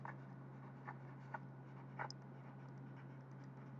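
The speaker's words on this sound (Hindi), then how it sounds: "तो यहाँ लिखेंगे हम भगवान गेन" Pen writing on paper in short scratchy strokes, four or five brief bursts spaced about half a second apart, close and quiet over a steady low hum.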